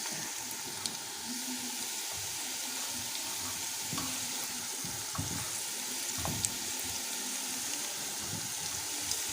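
Onions and garlic browning in a pan with salt and spices, a steady close sizzle of frying with occasional soft stirring clicks and scrapes throughout.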